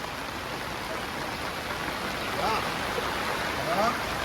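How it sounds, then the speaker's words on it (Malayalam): Steady, dense rain noise hisses throughout, loud and close, with a few faint whistly tones and slight swells near the end. "എന്താ ഒരു മഴയാണ്."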